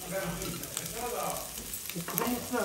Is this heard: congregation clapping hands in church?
no